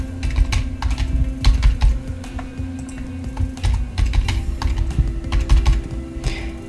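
Keys clatter on a computer keyboard while a new password is entered, quick irregular clicks close to the microphone, with a steady hum underneath and no talk.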